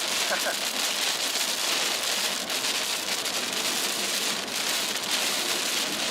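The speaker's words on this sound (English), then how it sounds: "So wind, rain, and now low visibility." Heavy rain beats on a vehicle driving through a storm in Illinois, with wind. A dense, constant hiss and patter fills the whole stretch at steady loudness.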